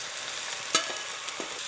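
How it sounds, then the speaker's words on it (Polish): Noodles stir-fried with garlic in a pan give a steady, close sizzle with a few sharp scraping clicks of the utensil, and no voices. "Będziemy to teraz smażyć."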